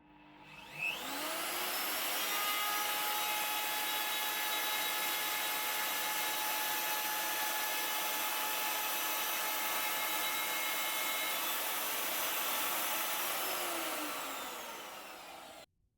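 A router fitted with a spiral upcut bit spins up, cuts wood in a steady high whine for about fourteen seconds, then winds down, loud and close, with no talking.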